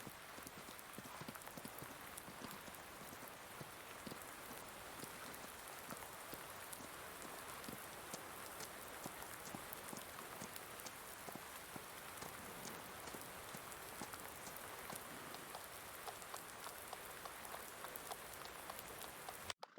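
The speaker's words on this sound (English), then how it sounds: "Oh, here comes the rain." Steady, even rain patters on surfaces in a Farming Simulator 19 field during an early summer storm, a quiet continuous hiss of drops with no voices.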